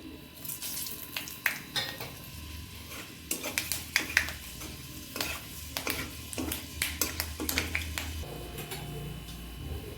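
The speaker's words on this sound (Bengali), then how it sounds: "মেথি ফোড়ন দিয়ে দিচ্ছি" Fenugreek seeds and dried red chillies sizzle in hot oil for a fish-head and ash gourd dish, a steady fry crackle broken by sharp pops and clinks of a pan, close and fairly quiet, with no talking.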